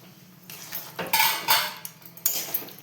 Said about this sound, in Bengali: এবার আমি সবজিগুলো দিয়ে দেবো, ভেজে রাখা সবজিগুলো সব দিয়ে দেবো।